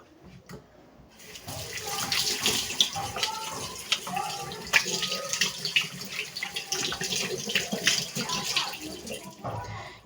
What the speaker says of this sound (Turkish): Arkadaşlar ben şimdi lavaboya geldim. E, elimi yıkıyorum.